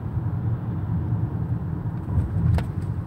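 A car driving along Sunset Boulevard in Hollywood on a wet afternoon, heard from inside as a steady low engine and road rumble with faint tyre noise, no talking.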